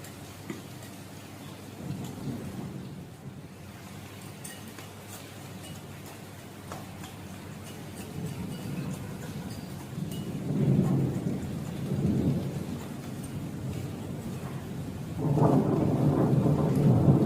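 Steady rain falls at a family home while several low thunder rumbles roll in and swell, the last growing loudest near the end.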